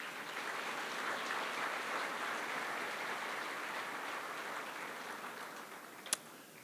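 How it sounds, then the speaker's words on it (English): Guests at a formal ball give the speakers a long round of applause, a dense and even wash of clapping that carries on steadily at a moderate distance, with a single sharp knock near the end. "Please let us give our speakers, all of our speakers, a round of applause."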